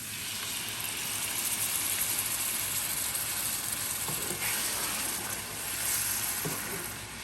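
Tomato with ginger and garlic paste frying in a pan, a constant bright sizzle and hiss with faint stirring scrapes, heard up close with no voices.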